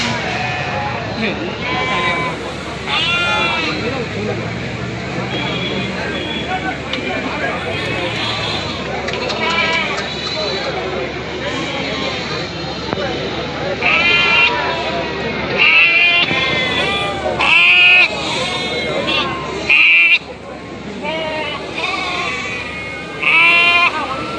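Goats bleat repeatedly amid the busy crowd noise of an outdoor goat market at Ettayapuram, with many voices chattering and bargaining throughout.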